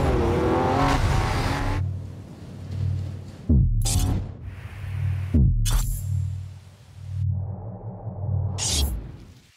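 A heavy, fast car, likely a Lamborghini Aventador, accelerates hard through several rising gear pulls, each ending in an abrupt shift, loud and close with no talking.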